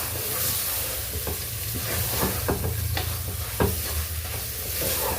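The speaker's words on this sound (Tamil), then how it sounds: "சேர்த்துட்டு இது எல்லாத்தையுமே சேர்ந்து நல்லா வதக்கிக்கலாம்." Marinated soya chunks sauté with biryani masala in a pan, a steady close sizzle broken by several distinct scraping stirs of a spoon against the pan, loud and continuous.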